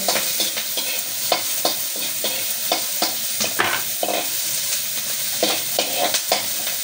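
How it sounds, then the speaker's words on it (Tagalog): Garlic and onion frying in a very hot pan, a loud, close, continuous sizzle with frequent stirring scrapes and clinks of the utensil, no talking. "Pwede natin ilagay yung ating bawang at sibuyas. Diba? Sobrang init na nga."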